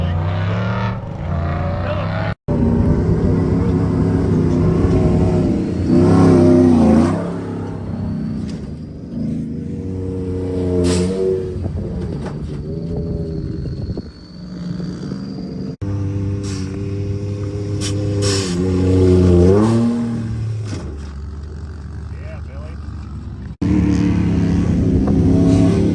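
A truck engine revs hard and loud on the SilverLake sand dunes while wheelieing across a hill, the roar rising and falling through the run, with excited voices talking over it.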